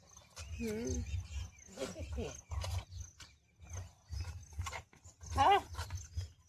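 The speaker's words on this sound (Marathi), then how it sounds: "ते कुत्रे आले." Village dogs near a cattle shed give several low growling barks and grunts in bursts, fairly close, separated by short pauses.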